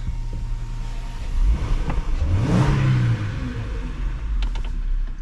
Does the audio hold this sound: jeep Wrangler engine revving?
yes